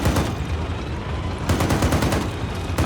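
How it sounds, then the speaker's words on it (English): Rapid gunfire from the video game Arma 3 plays in loud, dense bursts, with a brief lull in the middle and then more heavy shots in quick succession. "Oh, he got his shot off."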